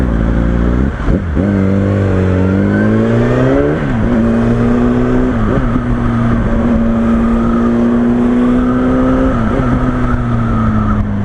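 Yamaha R1 motorcycle on its stock exhaust, loud and close, revving and accelerating through several gear changes with rising and falling engine pitch, steady engine drone between shifts.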